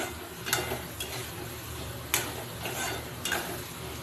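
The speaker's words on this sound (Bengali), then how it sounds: "ভালো করে নেড়ে যেয়ে কষিয়ে নিচ্ছি" Fish roe curry being stirred and sautéed in a pan, a steady soft sizzle with a few sharper scraping strokes of the spoon spaced across the clip, close and moderately quiet with no talking.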